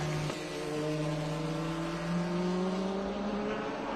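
A prototype race car accelerates hard out of a corner at Portland International Raceway, its engine note climbing steadily in pitch, loud and close with no voices over it.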